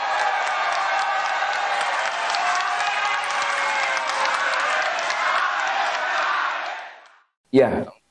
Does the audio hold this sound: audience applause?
yes